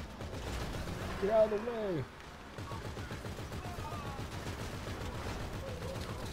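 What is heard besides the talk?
gunfire in GTA 5 Online video game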